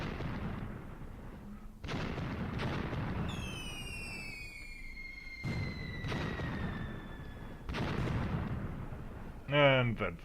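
Mortar barrage in the Graviteam Tactics war game: several heavy, booming explosions land in separate bursts, with long whistling shells sweeping down in pitch between the blasts and a short chirping sound at the end.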